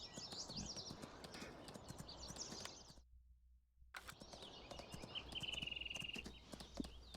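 Horse hooves clip-clopping at a slow walk in the Farming Simulator 19 video game, an even rhythm of steps with a brief silent gap midway.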